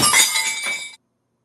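A glass is thrown and shatters, a loud, close burst of breaking glass with tinkling shards that stops abruptly after about a second.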